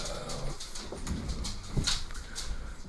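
Dogs whimper and whine in soft, scattered bursts against a steady noisy room background, fairly faint and with no clear talking.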